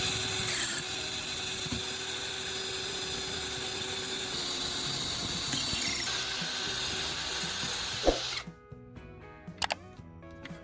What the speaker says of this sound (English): Now, I'm drilling 2 holes through the tube exactly where I marked earlier.